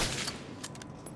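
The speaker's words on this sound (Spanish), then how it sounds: "este rifle, ¿veis? Que disparo" Rifle fire in the video game The Division 2: a few sharp shots in quick succession with a crisp crack and short decay, fairly loud with no talk over them.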